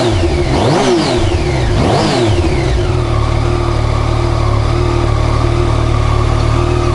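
Yamaha MT-09 motorcycle on its stock exhaust, revved twice in quick blips that climb and fall, then dropping back to a steady, loud, close idle rumble with no talking.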